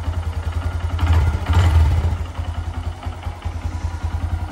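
A 2022 Honda Grom motorcycle with a quiet exhaust idles steadily close by, a low pulsing thump with slight swells in loudness, no voices.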